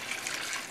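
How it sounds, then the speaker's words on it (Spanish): Boiling water poured into a pan for arroz con pollo, a steady bright splashing wash of liquid lasting under a second, fairly quiet and with no voices. "le voy a añadir el agua que ya está hirviendo"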